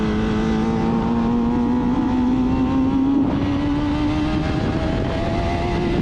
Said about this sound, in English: when I got it, it sounded like this